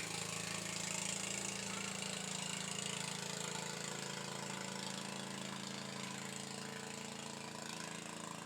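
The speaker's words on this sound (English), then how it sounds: "let the pump boat pass. It's because it's so noisy." A pump boat engine drones steadily on a river, a continuous mid-pitched motor rumble with a constant tone throughout, no voices over it.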